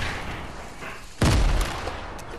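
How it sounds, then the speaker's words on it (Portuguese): A single sharp video game explosion booms out midway in Fortnite and rumbles briefly, standing out over a steady background hiss. "Tá ouvindo o barulho de explosão?"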